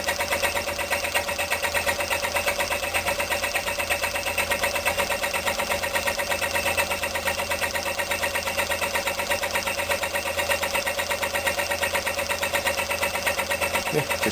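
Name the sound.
homemade Stirling engine running until out of fuel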